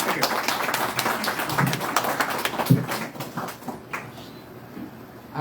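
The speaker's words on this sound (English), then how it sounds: "Everybody give a round of applause to Mr." A crowd at a Pride candidate forum applauds in a steady, dense patter of claps that thins out toward the end, with a faint voice underneath.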